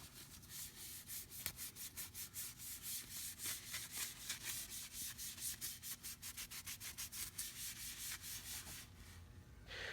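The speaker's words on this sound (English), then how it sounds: "grab the scrub pad, wring it out a bit, and agitate" A scrub pad works Stoners foaming gel wheel cleaner over a wheel coated in baked-on brake dust, making rapid rhythmic back-and-forth rubbing strokes, close and fairly quiet, with a brief pause near the end.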